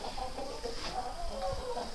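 Brahma chickens in a winter coop give soft, scattered clucks and murmurs close by over a steady background hiss, with no talk.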